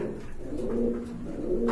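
Teddy pigeons, a breed of running pigeon, give low, throaty coos in a short close burst. The soft rolling notes repeat steadily with no voices.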